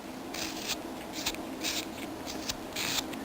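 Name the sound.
trimming the back of a wooden light bulb ornament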